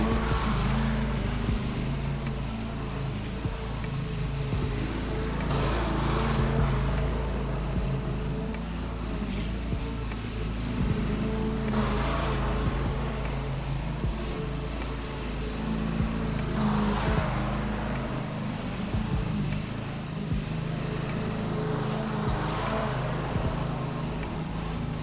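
A lawn mower cuts and bags an overgrown lawn with a continuous, fairly loud engine drone that swells and eases in slow cycles as it moves across the grass.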